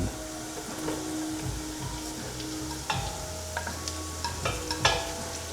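Thin-sliced onions hit a hot pan for adobong sitaw and sizzle steadily while a utensil scrapes and clacks against the pan in irregular strokes, close by, with no talking.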